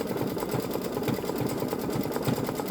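A Babylock Solaris Vision embroidery machine sews a satin stitch, a continuous close rhythmic chatter of rapid, evenly pulsing needle strokes throughout.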